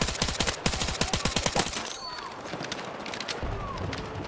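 Rapid full-auto gunfire from Battlefield 6, a loud burst of evenly spaced shots for about a second and a half, then tailing off into scattered distant shots and ambient battle noise.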